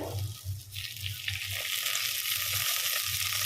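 Okra frying in hot oil in a pan, a steady close crackling sizzle with a low bubbling rumble, continuous and fairly quiet with no voices.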